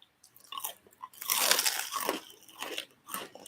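A crunchy, slightly burnt air-fried patty melt is bitten into up close, giving a loud crisp crunch followed by several smaller chewing crunches in an irregular rhythm.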